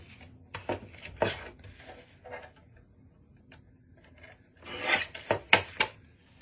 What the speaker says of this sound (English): let's go ahead and trim it while we're thinking about it.